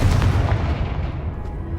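Confringo fire-curse explosion in the Hogwarts Legacy video game, a loud low booming blast that rumbles and slowly fades over under two seconds.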